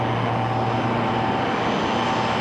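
A fixed-wing airplane's engine roars as the plane takes off, heard from inside the cabin as a loud, steady, continuous drone with no talking.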